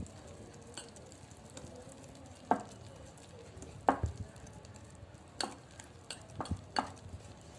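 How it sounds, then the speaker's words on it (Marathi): Eggless mango cake batter of flour, sugar and milk is stirred in one direction in a bowl, giving soft, steady scraping broken by several sharper taps of the spoon against the rim, close and quiet, with no talking. "एकाच दिशेने फिरवून मिक्स करायचं."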